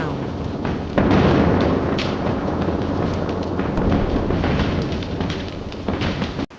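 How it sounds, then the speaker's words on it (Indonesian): Cannons boom in a battle between the VOC fleet and its foes outside the walls of Batavia as the city burns. Heavy thuds and a sharp blast land over a dense, continuous roar of rumbling fire, loud and close. "Kota terbakar saat meriam mengaum."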